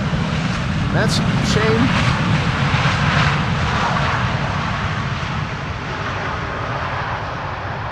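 Large airliner landing in a crosswind without idle reverse thrust, a loud, broad engine roar that rolls steadily and slowly eases, with someone briefly talking over it.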